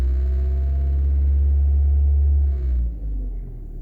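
Ford Focus Mk1 engine with a rich fuel trim fault, heard close as a loud steady low rumble while the gas pedal is held down, dropping off near the end.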